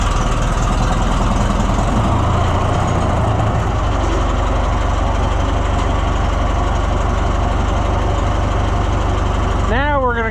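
An Oliver 1250-A tractor engine running with the choke pulled, a loud, steady low rumble with a regular throbbing pulse that continues throughout, and a rising whine near the end.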